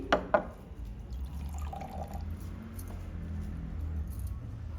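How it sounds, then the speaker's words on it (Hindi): Water poured into two glasses in turn, a soft thin trickle following two sharp clinks of glass at the start, quiet and close with a low hum underneath. "मैं दोनों गिलास में थोड़ा थोड़ा पानी बराबर मात्रा में लूंगी।"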